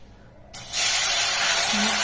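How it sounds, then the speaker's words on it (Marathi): A loud, steady hiss bursts up as water is poured into a pan of hot oil tempered with cumin, asafoetida and turmeric, settling into continuous sizzling with no talk. "आणि 3 वाट्या पाणी ॲड करायचं."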